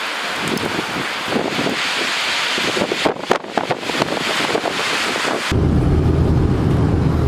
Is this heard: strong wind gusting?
yes